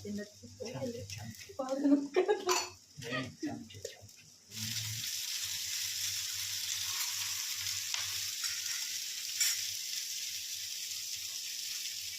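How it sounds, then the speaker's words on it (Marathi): Onion frying in a pan on a gas stove, a steady soft sizzle that runs alone after a few seconds of someone talking over it at the start. "कांदा भाजायला टाकलाय"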